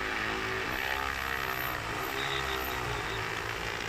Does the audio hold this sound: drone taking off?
yes